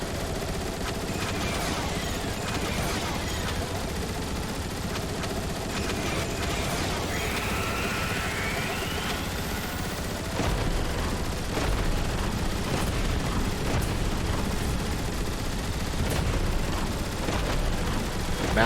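Gunfire in Transformers: War for Cybertron cracks out as scattered sharp shots and rapid bursts over rumbling mechanical battle noise, growing louder in the second half.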